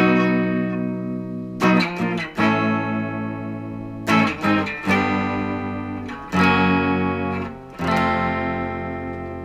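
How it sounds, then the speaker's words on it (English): Electric guitar with effects plays the intro riff of a song built on a B bar chord, loud distorted strummed chord stabs with short breaks, alone with no talk. "So what we're starting off here is a B bar chord for the intro"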